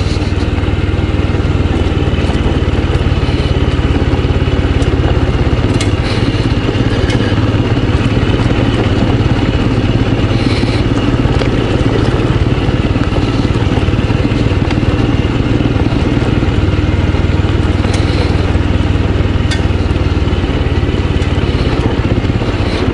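A Royal Enfield Scram 411 motorcycle ridden along a stony track gives a loud, steady engine drone with rough clatter that lasts the whole stretch, with no voices.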